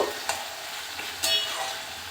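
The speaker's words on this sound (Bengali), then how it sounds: "ভালো করে মশলার সাথে কষিয়ে নিচ্ছি" Ol data (elephant foot yam) stalks sauté with spices in a pan, giving a short, even frying hiss with a couple of soft stirring knocks.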